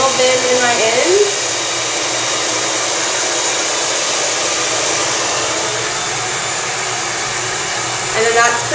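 A hair blow dryer runs close and loud while drying hair, a steady whooshing roar for most of the stretch, with brief speech at the start and end.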